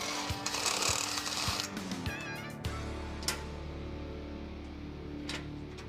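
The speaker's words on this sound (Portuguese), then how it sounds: "Agora eu vou abrir uns furos e aparafusar no lugar." Holes being drilled and bolts driven to fix a wheel well panel to a custom 4x4 chassis, a close, steady whirring power-tool run with brief clatters, dropping to a lower hum partway through.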